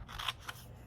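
Scissors cut through paper in one or two quick, crisp snips, close and fairly quiet.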